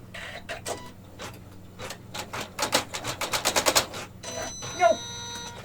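An embroidery machine sews an applique placement line on quilting fabric, a run of rapid, loud mechanical stitching bursts that speeds into a dense rattling cluster, then breaks off with a brief odd clunk near the end.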